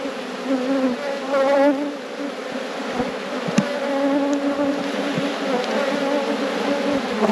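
Honeybees hum around an open beehive during inspection, making a loud, continuous close buzz with shifting pitch as individual bees pass near, plus occasional faint handling knocks.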